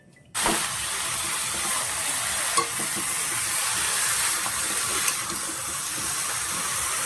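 Chopped vegetables hit a hot pan for a fish, eggplant and potato curry, bursting into a loud, steady sizzle that holds throughout with a couple of faint clinks of a utensil.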